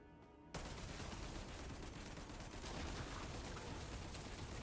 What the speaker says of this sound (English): look at the grenades that are popping off as well.